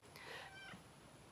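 A house cat gives a short, faint meow indoors, a single brief call over quiet room tone.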